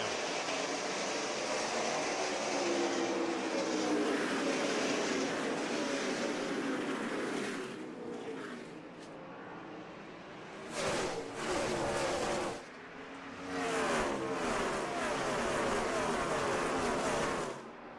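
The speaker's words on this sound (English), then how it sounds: "Jeff Gordon, Martin Truex going to race him hard, trying to stay on the tail end of the lead lap" NASCAR stock cars race at Phoenix in 2007, a loud sustained engine roar that swells and fades as the pack passes, with brief surges near the end.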